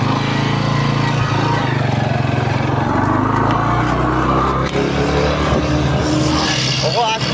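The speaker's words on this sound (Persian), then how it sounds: "موتور رو روشن کرد. هوندا سی‌دی‌های" A Honda CD motorcycle with a genuine Japanese engine runs at night, its steady low mechanical hum sitting close and constant beneath loud voices talking throughout.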